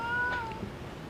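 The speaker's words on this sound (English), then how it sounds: "That's my cat." A house cat lets out a single short meow, close and fairly clear over a faint background hum, with no speech.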